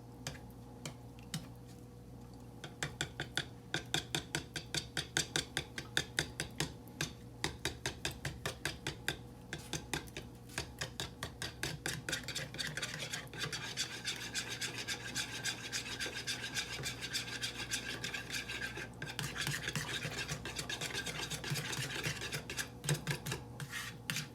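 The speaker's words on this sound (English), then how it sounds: "we're going to whisk this together, hopefully, and not make a mess" Whisking sauce ingredients together in a bowl for a dump-and-go summer crockpot meal: a rapid, steady scraping rasp of the whisk against the bowl, running continuously for over twenty seconds at close range with no talk.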